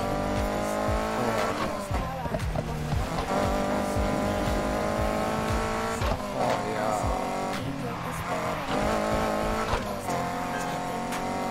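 A BMW M3 in the racing game Need for Speed Heat, its engine and exhaust roaring steadily throughout with rising and falling revs, tire squeal and skids mixed in, and a man exclaiming briefly over it.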